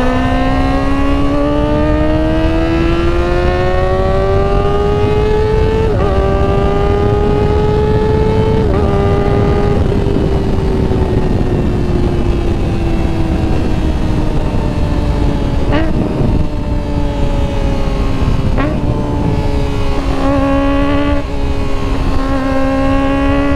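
Kawasaki ZX25R inline-four motorcycle engine with traction control off, held at a high steady scream for the whole stretch, pitch drifting up and down with a few brief shifts, loud and close with wind roar underneath.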